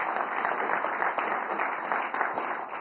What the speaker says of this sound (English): please give a round of applause, and thank you to our panelists